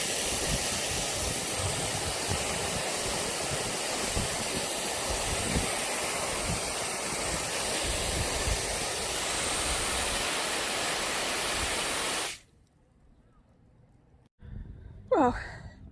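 A continuous hiss of water spraying over garden plants such as cucumber and tomato runs close and steady in hot weather, then cuts off abruptly near the end, followed by a brief faint sound.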